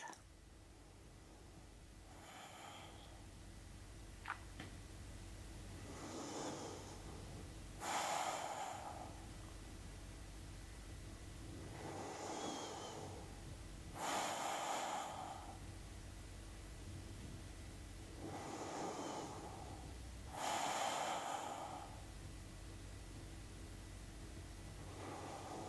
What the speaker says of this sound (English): Just take a few moments to listen to your breath.